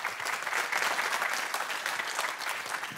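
Steady, dense applause from an audience at the Polish public media awards ceremony, continuous and evenly loud from start to finish with no talking over it.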